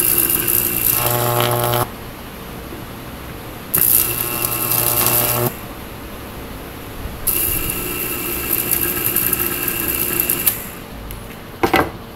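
A small DC motor driven at high voltage whines loudly in bursts, several high-pitched runs of a couple of seconds each starting and stopping, with a shrill buzzing tone and a brief final burst near the end.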